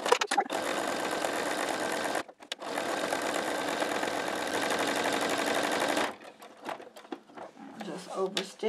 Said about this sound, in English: as I'm going around this line, as soon as my needle hits that diagonal, I know it's time to turn.